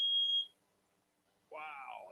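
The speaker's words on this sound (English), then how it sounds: "oh, there went the smoke detector" Smoke detector inside an RV at an RV park, one sharp, piercing, steady electronic beep lasting about half a second, loud and near, then silence before a person starts talking.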